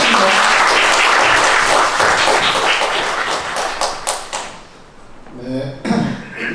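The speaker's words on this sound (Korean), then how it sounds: "박수로 환영합니다" An audience at a 2019 Korean media management society talk concert breaks into loud, dense applause to welcome a speaker. The clapping fades after a few seconds, and a voice begins speaking.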